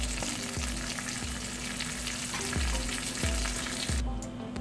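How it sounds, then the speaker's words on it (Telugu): Cumin, urad dal, a dry red chili and curry leaves sizzle in hot oil for a tempering for chinta chiguru pachadi, giving a steady close frying hiss with repeated soft knocks of a spoon stirring in the pan. "కొద్దిగా జీలకర్ర, అలాగే పప్పులు, మినప్పప్పు కూడా వేసుకోండి. ఒక్క ఎండుమిరపకాయ, కరివేపాకు కూడా వేసుకోండి."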